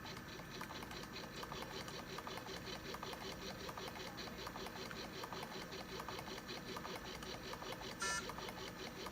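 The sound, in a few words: Belmont rapid infuser pump pushing fluid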